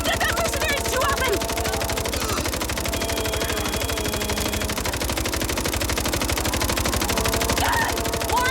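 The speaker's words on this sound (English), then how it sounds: "you don't hear about Saint firing machine guns at mercenaries too often" In the video game MindsEye, sustained machine gun fire rattles in rapid, even bursts for the whole stretch, loud and close, while voices and tonal game sounds play underneath.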